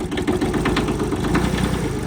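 The diesel engine of a 1977 Kubota B7100 compact tractor runs at a steady idle close by, a loud continuous chugging rumble with a fast even knock and no talk over it.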